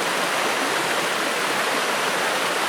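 Bano River in the Afi River Forest Reserve, Nigeria, flowing as a steady, full rush of water that fills the scene without pause or any voices.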